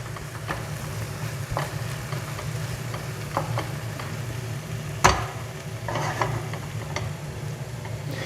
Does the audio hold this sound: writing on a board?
no